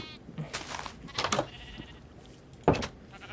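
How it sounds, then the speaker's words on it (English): Minecraft sheep bleat several times in quick succession, short nasal baa calls spread across a few seconds, with a louder final bleat standing out near the end. "Okay, so I gotta... keep making sheep."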